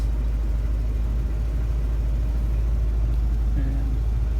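A 351W V8 car engine idles with a steady low rumble, close and constant, with no change in pace.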